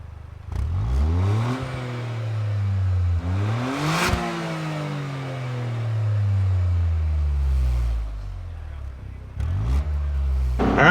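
A 2023 Toyota GR Corolla Morizo, top trim, accelerating hard from inside, its engine climbing in pitch through several gears with short drops at each shift, loud throughout, and a voice talking briefly over it.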